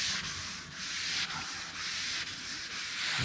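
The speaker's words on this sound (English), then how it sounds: "Get this area sanded." Steady back-and-forth sanding of the clear coat on a Camaro Z28, a close, loud, hissing rasp with regular stroke rhythm and no voices.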